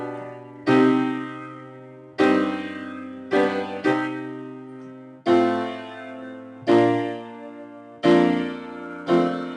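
Piano-like chord sequence of triads in a lecture on triad application, seven or eight sustained block chords struck one after another, each ringing and decaying, played alone with no talk.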